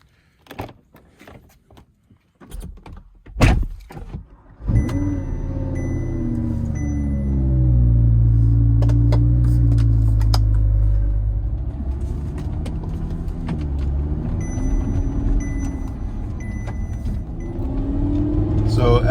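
An Audi with recently repaired axle bolts has its door clunk shut before the engine fires up, settles into a low idle and then pulls away, rising into a steady driving rumble; faint clicks and cabin noises mark the start.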